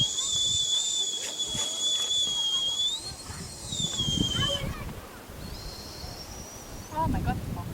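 A person whistles long, steady sustained tones outdoors in the wind, with a brief rising glide before the notes break off, then a shorter second whistle. Wind rumbles underneath and a few words are spoken.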